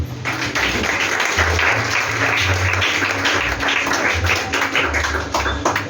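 Sustained, dense applause from a church congregation, many hands clapping steadily at fairly close range. Low rumbling sits under it and there is no clear speech.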